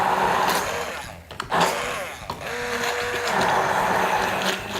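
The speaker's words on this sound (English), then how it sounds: "best option is to use the stick blender" A stick blender whirs steadily as it purees herbs into yogurt for a lamb chop sauce, a loud continuous motor drone with a brief dip and bump midway.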